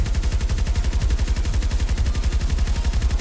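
Battlefield 2042 RPT light machine gun fired from the hip: a loud, close, unbroken automatic burst of rapid, evenly spaced shots with heavy low thump, lasting the whole stretch with no voices.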